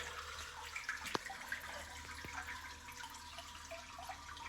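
A 1961 Case 1100 Lowboy toilet fills and rushes with water after a flush, a quiet, steady hiss with a few faint clicks and drips, and no talk.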